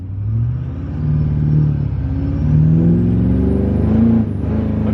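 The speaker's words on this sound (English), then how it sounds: "Look at that acceleration." A pickup truck accelerates hard, its engine revving loud and close through rising gear pulls with a brief shift dip, then cutting off near the end, and no voices.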